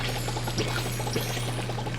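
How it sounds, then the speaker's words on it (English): Water poured over crops in the farming game Palia, a steady close splashing pour with a constant low hum beneath, no talk. "Pour the water everywhere."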